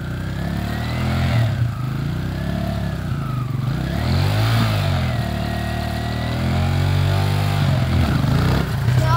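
A dirt bike engine revs hard up close, its pitch rising and falling in long sweeps over a loud, continuous roar.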